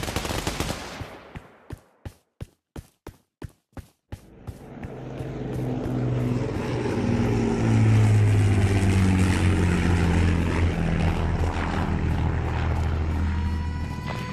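Propeller plane flying over a WW2 D-Day battle in a video game, rising to a loud droning engine roar that swells and holds after a rapid burst of gunfire clicks at the start.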